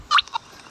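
Two short, bright bird calls from a Roblox video game, a louder burst followed by a quieter one, sounding like chicken or fowl clucking, alone against faint background noise.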